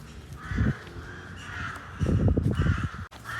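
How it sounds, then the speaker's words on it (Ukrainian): A flock of crows cawing outdoors, repeated harsh calls overlapping at moderate distance over steady street background noise, with no talking. "Куча ворон."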